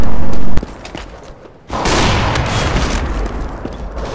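A grenade going off in Counter-Strike: Global Offensive: a loud close blast at the start cuts out, followed after a short lull by a sustained, rumbling roar of noise that slowly trails on.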